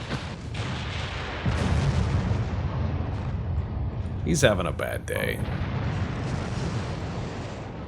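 Naval gunfire and shell explosions during a fleet battle in the warship game Ultimate Admiral Dreadnoughts, with a steady rumbling barrage and a burst of sharper blasts midway, heard under someone talking.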